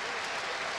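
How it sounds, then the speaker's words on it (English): Dense, steady clapping from a large stadium crowd giving a standing ovation at the 1994 MLB Home Run Derby, Three Rivers Stadium, Pittsburgh, loud and continuous with a faint murmur of voices mixed in. "listen to the applause for the Big Hurt."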